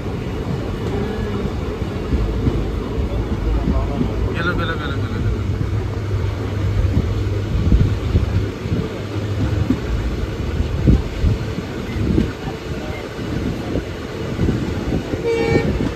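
A train rumbles steadily as it departs a platform at a railway station near Rameswaram. A short horn toot sounds early on, and the continuous, fairly loud rolling noise carries on throughout.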